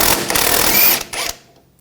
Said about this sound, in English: Using an 18mm socket, take this nut off